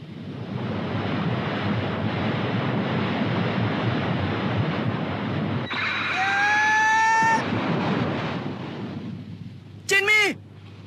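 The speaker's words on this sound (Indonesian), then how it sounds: "kita harus menyambut kedatangan ombak itu" Steady rush of surf and wind fills the clip, with a brief whistling tone midway and a short chirpy burst near the end.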